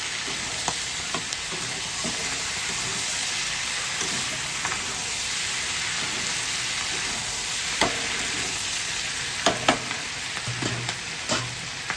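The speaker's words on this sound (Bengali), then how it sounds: "ভালো করে একটু নেড়ে নিচ্ছি আমি।" Chicken chilli frying in a pan gives a dense, constant hiss and sizzle, with occasional soft scrapes and knocks of a spatula stirring, close up and steady throughout, no voices.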